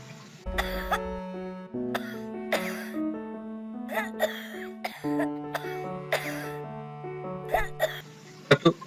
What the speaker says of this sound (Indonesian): Jika batuk Anda terdengar seperti ada banyak dahak, maka itu bisa disebabkan oleh flu biasa.